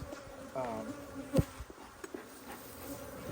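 Honeybees buzz around an open hive during an inspection, a steady insect drone with a few louder passes close by and a brief knock partway through.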